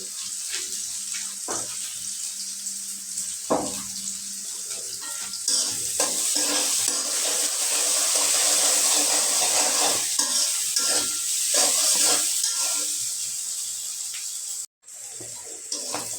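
Onions frying in a pan with a pinch of salt and turmeric, stirred steadily with a spatula, giving a continuous close sizzle with scraping strokes and occasional clicks.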